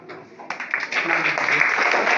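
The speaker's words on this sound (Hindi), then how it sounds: "तालियां।" Applause from students at a school seminar breaks out after a brief pause and grows into steady clapping, while a voice carries over it.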